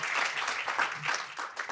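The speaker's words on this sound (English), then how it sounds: "let's give another round of applause" Dense audience applause in a lecture hall fills the whole short stretch. The clapping is steady and crowded, with no voices on top.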